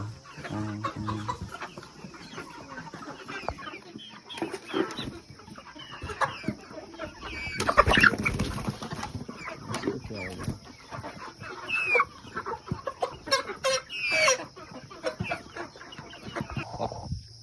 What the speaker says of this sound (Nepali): कुखुरा चाहिँ यहाँ छ दुइटा